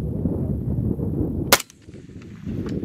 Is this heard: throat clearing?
no